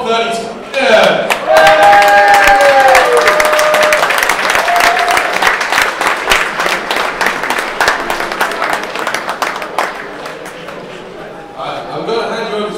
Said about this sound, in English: can we get a round of applause for our top 30?